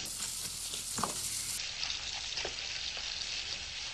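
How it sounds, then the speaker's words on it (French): Thinly sliced onions sizzle and fry in a hot pan, a dense steady crackle with a few soft clicks and scrapes of stirring, close and even throughout. "Je vais faire revenir les oignons que j'ai effilés."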